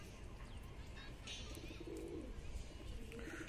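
A Madrasi pigeon sits on a rooftop, giving soft low cooing calls amid faint ambient noise and a few scattered chirps, quiet and fairly close.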